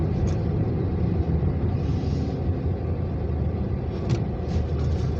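A car rolls along Mill Avenue over embedded street rails, giving a steady low road rumble with faint tire noise and a few brief high scrapes, close and continuous with no talk.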